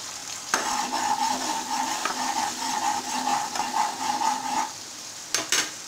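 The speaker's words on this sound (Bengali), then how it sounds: "আমি এই মশলাটাকে যতক্ষণ না মশলা কষিয়ে তেল বেরিয়ে আসছে ততক্ষণ কষিয়ে নেব" Spices for pea dal frying in hot oil, with coriander powder and turmeric, steadily sizzling while a spoon scrapes and stirs in repeated strokes; continuous, close, pausing briefly near the end.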